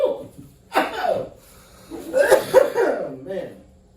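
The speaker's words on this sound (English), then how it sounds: "That's what everybody wants to listen to. Me coughing." A man coughs in a few harsh bursts, loud and close, with a short chuckle or throat sounds between them and no other sound around.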